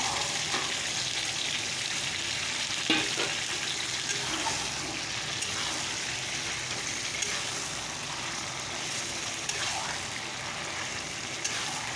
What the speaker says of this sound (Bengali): চলো এবার মাটনটা ছেড়ে দিই মাটনটা দিয়ে দিলাম